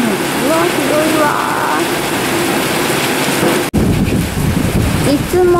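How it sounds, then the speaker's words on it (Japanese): Heavy morning rain pours down as a dense, loud, continuous hiss, with wind buffeting the microphone and one brief dropout partway through. "ここまでも雨がべったべたになってるから、もう先に行けない"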